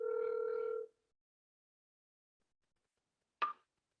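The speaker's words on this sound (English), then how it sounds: "So now the phone is ringing" A single phone ring tone sounds, steady and electronic, followed by silence and then a short burst from the line.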